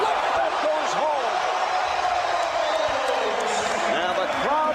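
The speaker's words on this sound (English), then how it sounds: "And the crowd responds" Arena crowd at the 2003 NBA All-Star Game roars in a sustained, loud cheer after Michael Jordan's flip shot, with whoops and a commentator talking over the din.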